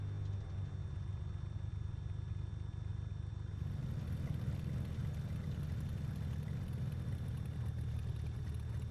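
In a flight simulator, a Cessna 337H Skymaster engine cranks and catches, its low rumble rising to a steady, louder drone partway through, with no voices.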